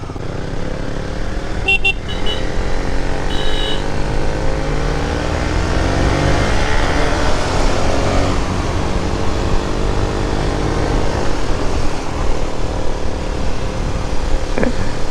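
KTM 200 Duke and KTM 250 motorcycles ride along a road, engines droning steadily and close for the whole stretch, with passing traffic and a brief horn toot early on.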